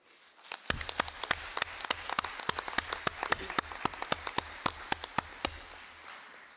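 Delegates at the closing ceremony of the UN-Habitat Assembly applaud in a hall, with sharp, distinct claps in a brisk uneven rhythm that build and then taper off after several seconds.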